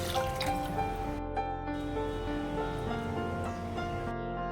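Water runs steadily into a vessel of washed rice, a continuous trickling pour with dripping, close by and fairly quiet, for soaking the rice for amboli.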